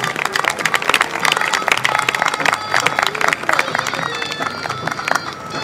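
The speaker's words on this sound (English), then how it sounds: "She's still learning, so I think a round of applause might go" Outdoor audience at a Roman historical demonstration in Chester clapping in a steady patter, mixed with nearby talk and crowd murmur.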